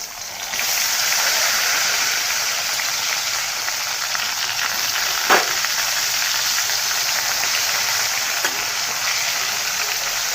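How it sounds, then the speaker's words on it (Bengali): Eggplant pieces fry in hot oil with a steady, close hiss of crackling sizzle, broken once by a sharp knock of a utensil; no one speaks. "তেলটা গরম হয়ে গেছে সবগুলা বেগুন ভাজা করে নেব"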